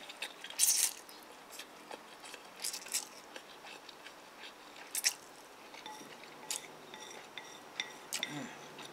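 Noodles with cuttlefish balls being eaten up close, with soft wet chewing, bites and occasional utensil clicks against a dish, in a steady, quiet rhythm.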